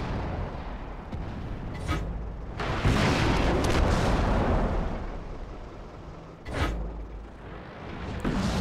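Tank cannon fire in the World of Tanks video game: several heavy booming shots, some near and some more distant, rise over a constant low rumble of battle noise with no voices.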